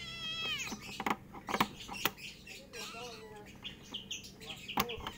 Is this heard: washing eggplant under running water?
no